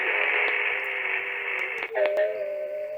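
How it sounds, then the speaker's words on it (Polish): FT8 digital radio signals received on a Radioddity GS-10B Pro shortwave radio on the 18 MHz band: steady layered electronic tones under a hiss, shifting pitch partway through, loud and continuous with brief clicks of static. "chyba każdy wie, co to za dźwięki, czyli FT8."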